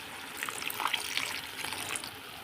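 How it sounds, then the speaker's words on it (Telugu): Water poured into a simmering prawn curry, a steady broadband splashing stream running continuously at moderate loudness with no talk. "ఇందులో కొంచెం వాటర్ యాడ్ చేసుకుందాం"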